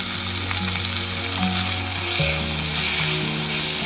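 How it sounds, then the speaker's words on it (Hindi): Onion and chopped tomato frying with turmeric and salt for leftover-idli upma, a loud continuous sizzle heard close up with stirring and steady tones from a nearby appliance or music underneath, no speech. "तो अच्छे से भून लेंगे।"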